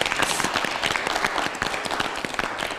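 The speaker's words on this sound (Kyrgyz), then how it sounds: "Кол чаап коелучу кенес." Studio audience applauding on a television talk show, a dense, steady wash of many hands clapping that carries on without a break for about three seconds.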